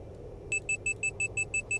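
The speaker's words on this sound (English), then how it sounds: "What's that beeping noise?" Overspeed warning in a Carenado Citation S550 flight simulator cockpit: a steady string of eight evenly spaced, clear electronic beeps over a low engine hum, no talk.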